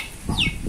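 A hen clucks close by in a backyard chicken coop with a small chick, a few short low clucks and a brief higher chirp within under a second.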